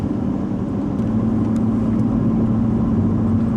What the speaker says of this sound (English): you need a certain amount of RPM to build up back pressure to make the exhaust brake work well